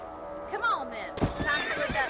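A horse in Red Dead Redemption, a video game, lets out a clear whinny, followed by a burst of louder hoof clatter and movement in the game's soundscape.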